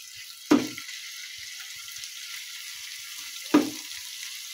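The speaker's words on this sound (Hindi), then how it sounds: "इसको थोड़ा सा भूनना है ताकि इसका कच्चापन खत्म हो जाए" Ginger and garlic fry in a little oil with a steady, soft sizzling hiss, broken by two sharp utensil knocks against the pan.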